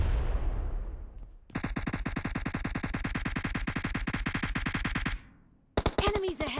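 Rapid automatic gunfire in the mobile battle-royale game PUBG Mobile, a long, steady burst of evenly spaced shots that cuts off abruptly, followed by a brief voice.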